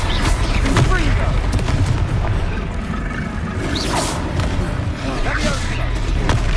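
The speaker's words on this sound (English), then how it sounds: "Confringo." In Hogwarts Legacy, Confringo explosive spells go off as a string of booms and whooshing bursts over game combat noise, with a voice calling out between the blasts.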